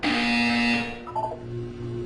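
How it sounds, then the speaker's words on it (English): A loud electronic buzzer in the Portal 2 video game sounds for under a second, then fades into quieter tonal hums and room ambience with no talking. "When you hear the buzzer, look down at the floor."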